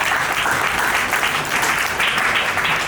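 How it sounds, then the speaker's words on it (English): Steady, dense applause from a panel audience at a Boston Marathon adaptive runners brunch, loud and continuous throughout with no talk over it. "deserves a round of applause."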